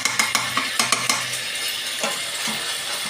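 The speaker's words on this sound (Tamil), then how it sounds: "நம்ம வெந்தயம் போட்டு நல்லா பொரிஞ்சு வரணும்." Fenugreek seeds frying and popping in hot oil for a fish curry, with crisp sizzling and a run of sharp crackles and stirring clicks early on, then a steadier fizz, close up with no talk.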